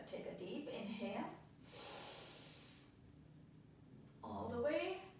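A deep inhale during a yoga warm-up, a breathy hiss rising between short bursts of talk from the instructor, close and fairly quiet.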